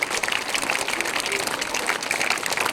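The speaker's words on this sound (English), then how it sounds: "Give him a big round of applause." Crowd applause at a school speech activity session, steady dense clapping filling the whole moment at moderate loudness with no voices over it.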